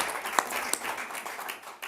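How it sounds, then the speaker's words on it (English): Attendees at a behavioral health commission meeting clapping, a modest spread of individual claps at middling volume, with a couple of sharper close hand strikes standing out. "a nice round of applause."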